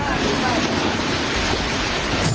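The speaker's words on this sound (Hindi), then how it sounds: "वहां अब सिर्फ पानी का शोर है" Roaring floodwater from the Ganga river surges through a village in Ballia as a constant, dense broadband rush. It is loud and unbroken, with heavy wind buffeting on the microphone.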